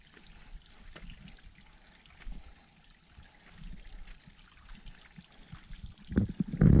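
Cold mountain spring water trickles from a pipe set into a mountainside beside the Appalachian Trail, a steady, soft, continuous flow heard close up, growing louder and splashier near the end.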